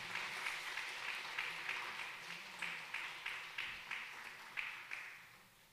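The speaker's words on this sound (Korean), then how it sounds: "박수로 환영해 주시기 바랍니다." A church congregation applauds steadily during a Sunday morning service, the clapping rising and fading in soft waves before trailing off.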